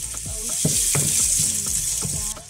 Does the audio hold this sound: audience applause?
no